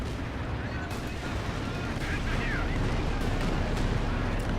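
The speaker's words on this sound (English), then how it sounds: "Okay, in comes the incendiary artillery." Incendiary artillery barrage in the Company of Heroes 2 video game, a continuous dense roar of gunfire and rumbling blasts over the whole stretch, loud and steady with crackling bursts, with game voices and effects mixed in.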